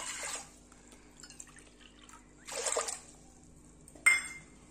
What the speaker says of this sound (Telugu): ఈ కప్పుతోటి 3 కప్పుల వాటర్ పోసుకోవాలి